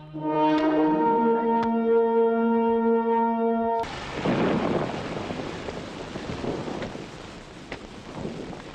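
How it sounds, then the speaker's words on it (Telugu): Steady, heavy rain pours down in a film scene after a sustained tonal chord fades out, with a few sharper cracks over a continuous dense wash of noise. "వర్షం పట్ట మంచిదేగా, భూమి చల్లబడుతుంది"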